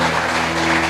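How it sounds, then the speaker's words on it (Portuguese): A church congregation applauding, a dense, steady wash of many hands clapping at once, full and close for a single second with a low hum beneath. "Vamos dar uma salva de palmas para Jesus."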